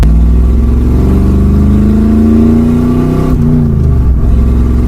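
A 1966 Ford Mustang vintage racing car revs loudly and close, its engine note rising and falling in a thick, rumbling roar that dips near the end.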